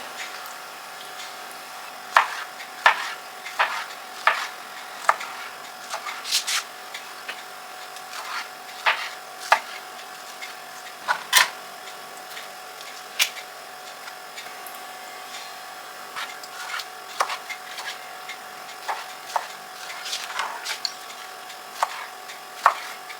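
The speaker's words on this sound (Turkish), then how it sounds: "şeftalilerimizi küp şeklinde keseceğiz" A knife cutting peaches into cubes taps a cutting board in sharp, irregular clicks, some quick runs and some single chops, fairly quiet against a steady background hum.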